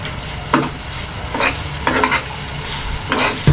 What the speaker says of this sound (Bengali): এখন এইভাবে আস্তে আস্তে নেড়ে নেব চিংড়ি মাছ ভাজা না হওয়া